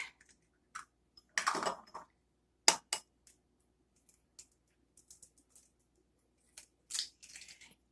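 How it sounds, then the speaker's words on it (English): Eggs go into a big bowl for a coconut tart: scattered sharp clicks and taps, close and fairly quiet, with a brief louder cluster and long silent gaps, no talking. "which I am going to put the eggs in my big bowl here"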